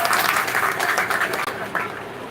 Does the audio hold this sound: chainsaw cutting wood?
no